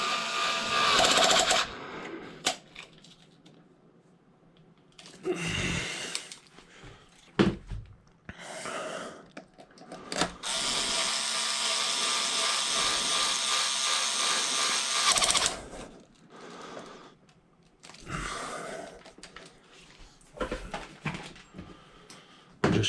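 Motor being bolted onto an Arrma Kraton 8S EXB RC car with a Castle 1100KV motor, heard as close bursts of power-tool whirring and clattering between quiet pauses, some long and sustained.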